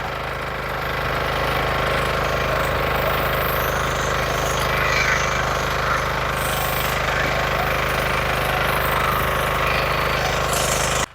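Power tiller engine running in a turmeric field, a loud, steady, rapidly knocking mechanical chug that holds without pause from start to finish, with no voices over it.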